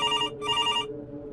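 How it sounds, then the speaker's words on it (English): A kitchen telephone rings loudly in two close bright electronic trills, then falls silent. "the kitchen phone began to ring."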